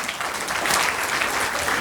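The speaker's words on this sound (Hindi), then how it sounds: "एक बार विजेता मैम और अमित सर के भी जोरदार ताली बजा दीजिए" Loud, sustained clapping from an audience at a coaching power session for students, a dense, even applause that keeps going for the whole stretch without anyone speaking over it.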